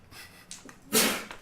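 A single close sneeze bursts out loudly after some quiet breathing and faint background noise during a tabletop Dungeons and Dragons session.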